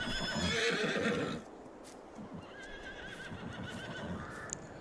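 A horse in Farming Simulator 22 gives a loud, drawn-out whinny up close, followed by quieter snorting and a few soft hoof clops.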